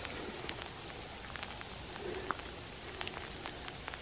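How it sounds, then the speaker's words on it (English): Freezing rain mixed with ice falls in a cold hillside forest in winter, a faint, steady patter with scattered small ticks and taps of pellets landing, distant and soft throughout. "It's ice with rain."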